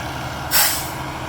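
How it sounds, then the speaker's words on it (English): A loud burst of hissing air cuts in over a concrete pump truck's low, steady diesel engine rumble as it extends its boom, then slowly fades back into the idling drone. "The truck is getting his boom out."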